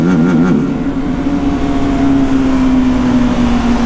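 A BMW 310GS motorcycle engine on a mountain road descent, loud and close, with a steady droning tone that dips and wavers early as gears shift, then settles into a sustained pull with the exhaust running unfiltered.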